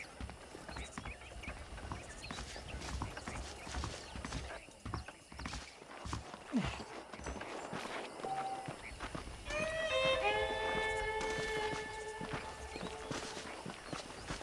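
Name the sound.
horse hooves clip-clopping, from a Red Dead Redemption video game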